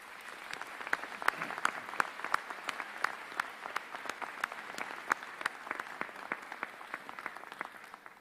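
Audience applause at a university convocation ceremony in a large hall, a sustained spread of individual claps heard at moderate distance, fairly faint and steady across the clip.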